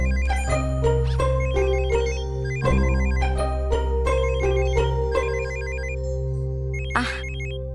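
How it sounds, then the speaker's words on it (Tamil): A mobile phone ringtone plays in a Tamil TV drama scene, a repeating electronic melody of bright tones in rhythmic phrases, steady and fairly loud, with a brief burst of other noise near the end. "போன் அடிக்கிட்டு பாரு"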